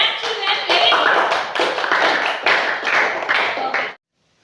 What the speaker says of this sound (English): Clap children.